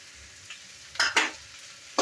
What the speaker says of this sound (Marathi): भेंडी आपल्याला आता भाजून घ्यायची आहे तेलामध्ये